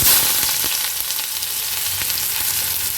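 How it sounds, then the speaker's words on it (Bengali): Onion frying in olive oil in a kadai, a steady dense sizzle and crackle held at even loudness throughout, with no voices. "তো কড়াতে আমি অলিভ অয়েল নিয়ে নিয়েছি। তো এর মধ্যে আমি ওই পেঁয়াজটাকে"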